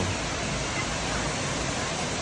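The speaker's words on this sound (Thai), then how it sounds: "น้ำตกแห่งนี้ฮะเป็นน้ำตกที่ สวยแห่งหนึ่ง" Steady broadband rush of the Iskandar waterfall at Cameron Highlands, Malaysia, a dense continuous roar of falling water filling the whole short stretch at an even level with no breaks.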